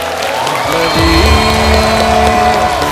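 Studio audience on a comedy talk show applauds and cheers for singer Arijit Singh, a loud continuous wash of clapping and whoops with music and voices underneath.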